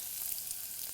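Onion and cinnamon bark sautéing in a pan after cumin, giving a steady, soft sizzle with faint stirring, close and alone for about a second.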